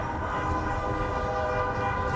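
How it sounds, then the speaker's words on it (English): Vehicles in a Lower Manhattan street lean on their horns during a Sikh protest, a sustained blare of overlapping honks over steady city traffic rumble, loud and unbroken. "Look at everyone's honking their horns."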